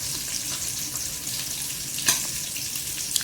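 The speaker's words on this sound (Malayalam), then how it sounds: "അരപ്പൊക്കെ ചേർത്ത് നല്ലവണ്ണം ഇളക്കി എടുക്കണം" Cooked jackfruit being stirred with ground coconut paste in a pan for Kerala chakka puzhukku, a steady close sizzle and scraping shuffle with one sharper clink of the spoon partway through.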